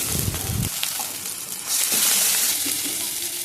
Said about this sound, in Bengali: গরম তেলে দিয়ে দিলাম গ্রেট করা পেঁয়াজটা, দিয়ে দিলাম রসুন বাটাটা